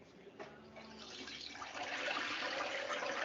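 A whole turkey is lowered slowly into hot frying oil. The sizzle starts quiet and swells over a few seconds into a loud, steady, close hiss and bubble.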